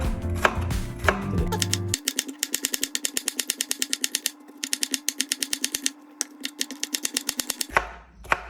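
A knife chops vegetables on a cutting board in a rapid, steady run of crisp close taps that pauses briefly and resumes, with no talk over it.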